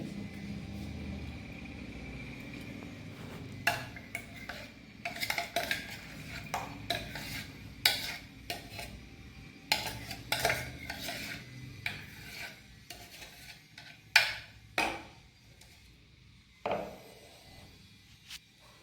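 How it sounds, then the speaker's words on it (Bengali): Chilled, blended mango pulp for mango ice cream being stirred in a bowl, heard as a steady scraping rub with irregular clinks of a spoon against the dish, close and with no talk. "এবার এটাকে এর মধ্যে ভালো করে মিশিয়ে নিতে হবে।"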